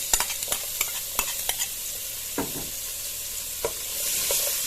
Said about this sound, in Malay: Cik Din nak tumiskan bawang putih dan juga bawang merah yang telah kita iris halus ya.